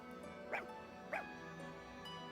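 Small dog in the Fire Emblem Engage video game giving two short yips or barks about half a second apart over steady game music, fairly close and clear.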